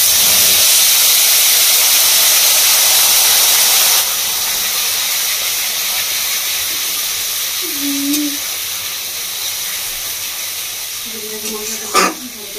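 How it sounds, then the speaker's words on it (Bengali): Ground spice paste dropped into hot oil, a loud close hissing sizzle that steadily fades, with brief knocks and a short clatter near the end. "এবার আমি দিয়ে দিচ্ছি এর মধ্যে বেটে রাখা মশলাটা"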